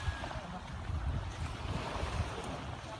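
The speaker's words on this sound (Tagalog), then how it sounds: "Nandito ngayon tayo sa dagat." Sea waves wash at a beach in a low, continuous surf roar mixed with wind buffeting the microphone, fairly faint and without clear voices.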